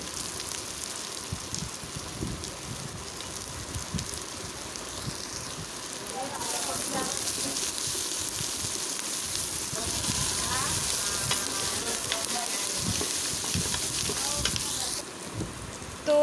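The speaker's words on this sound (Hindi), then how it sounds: "अब हम इसमें लहसुन और अदरक को शामिल करके उसको भी थोड़ा सा फ्राई कर लेंगे" Ginger and garlic frying with onions in a pan for beef aloo gosht give a steady broadband sizzle that grows louder and denser midway, with a voice talking over it.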